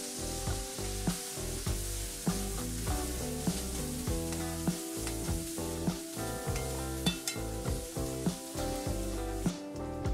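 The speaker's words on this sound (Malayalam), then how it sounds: "ഇവ ചേർത്ത് 2 minutes നന്നായി ഇളക്കി കൊടുക്കുക." Gobi manchurian gets stirred in a pan after tomato sauce and soy sauce are added, a continuous sizzle broken by repeated scraping and clinking of a spatula, with steady melodic music playing over it.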